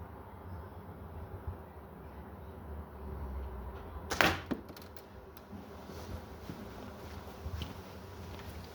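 A single sharp snap and whack as a Barnett King Rat Havoc Hunter slingshot fires a heavier shot, followed by a few quieter clicks, against a faint outdoor background with no talk.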